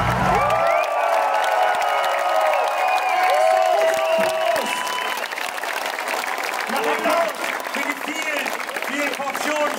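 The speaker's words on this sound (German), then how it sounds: "Und ihr klatscht, als wären unsere Mütter nicht hier." A large open-air concert crowd at the Spandau Citadel applauds: dense, continuous clapping mixed with cheering and whoops, loud and sustained throughout.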